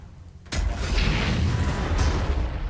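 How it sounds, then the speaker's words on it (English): Huge artillery gun firing in the Warhammer Armageddon game, a sudden loud booming blast that rolls on as a long, dense roar of noise. "I'm going to lose men due to the big-ass artillery gun"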